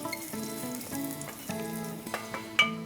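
Gentle sizzle of vegetables frying in a pan runs under a soft, tonal background, with a few small clinks and stirring sounds toward the end.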